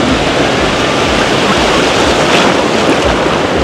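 Ocean waves wash steadily onto a beach in Indonesia, a loud continuous roar of surf with wind buffeting the microphone and no voices.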